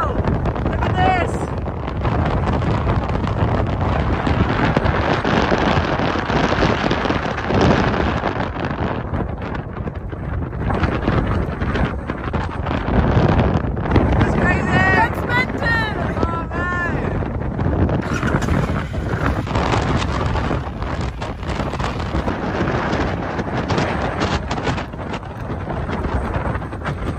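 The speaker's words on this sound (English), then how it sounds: "It is super, super windy here." Strong gusty wind buffets the microphone while a rider on a round-the-world motorcycle trip stands exposed outdoors, a loud continuous roar with a voice speaking beneath it.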